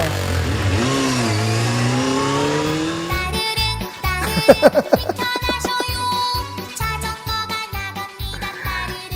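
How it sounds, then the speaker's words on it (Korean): A large motorcycle of about 1000 to 1500cc rides up to a church, its engine revving in sharp bursts after a stretch of sustained sound, loud and close. "오토바이 타고 오시네요."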